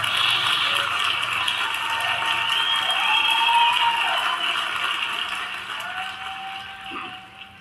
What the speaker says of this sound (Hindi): एक बार जोरदार तालियों के साथ उसका स्वागत करिए।